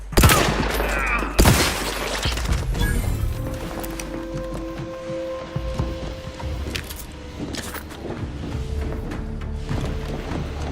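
Gunfire rips through a station in the video game The Outer Worlds 2, opening with loud shots and a burst. Rattling fire and clattering debris follow, then settle into a quieter hum with scattered sharp cracks.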